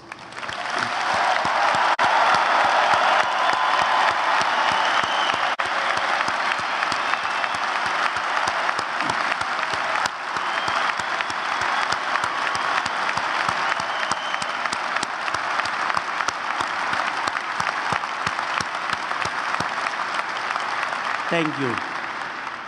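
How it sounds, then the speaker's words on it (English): A commencement crowd at a university graduation ceremony gives long, warm applause, dense sustained clapping from a large audience that carries on steadily, with a brief voice saying thanks near the end. "So please join me in giving these incredible creatures a really humdinger"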